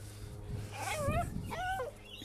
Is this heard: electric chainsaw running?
no